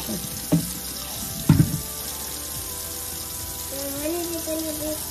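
Tap water runs steadily while a young girl's hair is washed at home, with two brief louder splashes and sloshes early on and a soft background hiss throughout.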